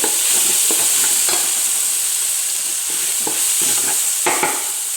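Tomatoes and onions fry in a pan for chicken gravy, a loud close sizzle broken by repeated scraping strokes of a spoon stirring them around.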